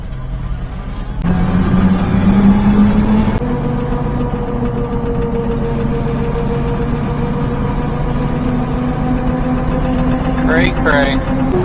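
Small right-hand-drive mini-truck with a supercharger, its engine droning steadily under load as it lugs up a hill, loud and close from the cab, with a gear change early on and people talking over it.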